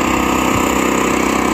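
A dual-fuel 3300-watt inverter generator runs loud and steady, heard from right behind its exhaust as a continuous buzzing engine drone with no talking.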